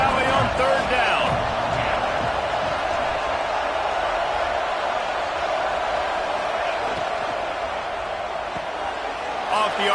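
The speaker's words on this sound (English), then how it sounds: "Comes the noise from this big crowd in Happy Valley on third down." Crowd noise in a big college football stadium at Happy Valley on third down, a loud, steady roar sustained throughout, with a commentator talking over it.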